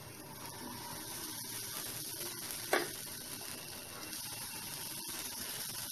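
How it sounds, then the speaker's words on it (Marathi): Rava dosa batter hisses and sizzles softly on a hot pan, a steady, fairly quiet frying crackle with one brief sharper spatter midway and no voices. "आता आपण यावर पीठ टाकून घेणार आहोत।"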